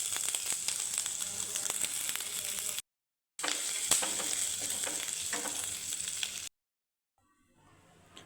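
Ginger frying in ghee with cumin, a bright crackling sizzle with frequent spoon taps and stirring, cut by two brief silences before a faint hiss returns at the end.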